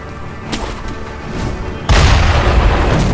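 Cannon fire in Sekiro lands as a single loud, deep boom that cuts through a quieter rumbling background and leaves a sustained roar afterward.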